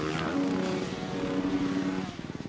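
Motocross bikes at an X Games 2021 Best Whip competition rev their engines in a loud, wavering buzz that rises and falls, ending in rapid pulsing engine bursts.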